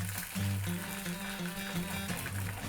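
Food sizzling and frying in a hot pan while preparing a spicy egg and anchovy keto gimbap, a steady crackling sizzle with low hum underneath, no talking.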